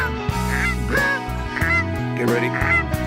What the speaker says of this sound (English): There's a goose coming in, guys.